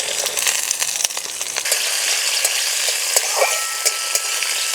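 Coriander seeds, cumin and green chillies fry in a little mustard oil in a kadai, giving a steady loud sizzle with occasional crackles and stirring scrapes, and no voices.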